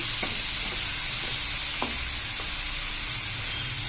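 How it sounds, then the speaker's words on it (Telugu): Prawns for a masala prawn fry sizzle steadily in hot oil in a pan, close and loud, while a few sharp scraping stirs cut through the constant hiss. No one speaks. "మనం రొయ్యలన్నీ వేసుకున్నామండి, వేయించుకుంటున్నాం."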